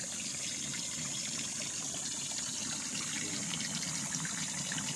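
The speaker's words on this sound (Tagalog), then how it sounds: "Tuloy-tuloy yung agos ng tubig kahit tag-init" Water from a ground spring on a riverside farm lot flows without pause in the dry season, a faint, even rush with no talking.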